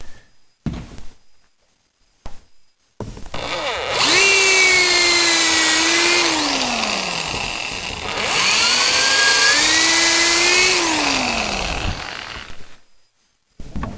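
A power drill bores holes into a CG-1500 telescope case, two long loud whining runs that rise and sag in pitch, framed by short clicks and brief starts, with no speech.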